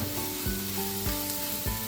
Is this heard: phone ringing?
no